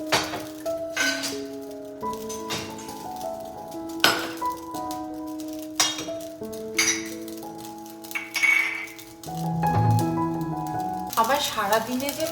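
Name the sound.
emptying a dishwasher, dishes clinking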